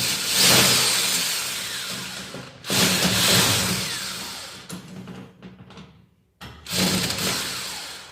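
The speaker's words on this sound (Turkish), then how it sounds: "Bir şarjör tornavida yardımıyla" A cordless screwdriver backs screws out of a fire door handle, its motor whirring in three close, loud bursts separated by short pauses and a brief near-silence.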